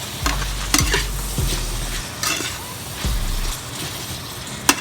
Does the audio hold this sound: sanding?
no